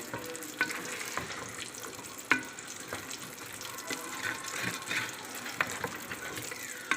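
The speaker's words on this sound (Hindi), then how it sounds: "और इसे भूनूंगी।" Steady frying sizzle of mutton and potatoes in a pan, broken by repeated clinks and scrapes of stirring at an uneven rhythm, close and fairly loud.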